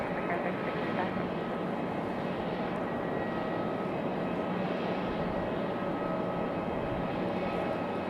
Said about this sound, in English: This one coming in on an A320-200.